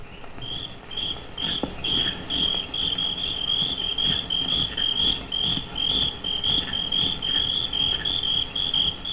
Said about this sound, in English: It was crickets.